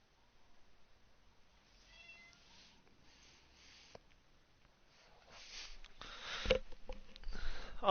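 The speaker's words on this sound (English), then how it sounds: "I know you wish to meow at it." A cat meows repeatedly at a closed door indoors, with soft sniffing and faint scuffling between the calls that grow louder and busier toward the end.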